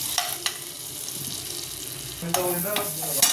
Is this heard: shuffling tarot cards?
no